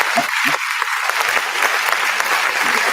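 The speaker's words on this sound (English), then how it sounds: "All right, with the applause now." A studio audience applauds a blues musician on a Saturday morning show, a full, continuous round of clapping that carries on without a break.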